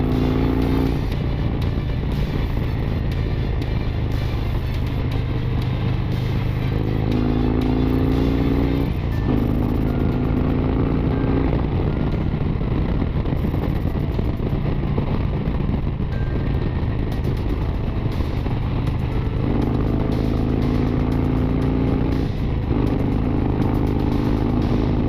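Harley-Davidson CVO Street Glide motorcycle cruising at speed, a steady loud engine drone with wind rush and occasional shifts in pitch as the rider eases on and off the throttle, with no talking.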